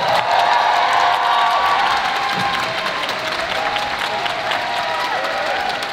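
A large concert audience at a concert gives sustained, loud applause, with dense clapping and some cheering filling the space evenly throughout.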